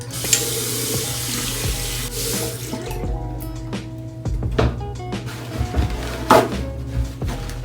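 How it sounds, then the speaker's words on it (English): A bathroom sink faucet runs steadily while someone washes their face, a continuous wash of water with splashes and small knocks over it, close and without talk. "I'm gonna go ahead and wash this off of my face."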